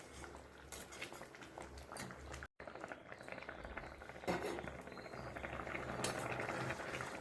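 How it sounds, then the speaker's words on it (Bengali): Jackfruit and chana dal curry simmers uncovered in a pan, giving a faint, steady bubbling and gentle patter close by that continues with one brief dropout. "আর ঢাকা দেবো না, এরকমই জাল হোক। অনেকটা সিদ্ধ হয়ে গেছে"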